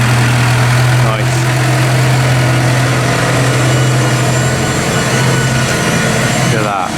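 A big Massey Ferguson tractor idles nearby with a loud, steady low drone and a slight mechanical rattle, while a person talks over the engine noise.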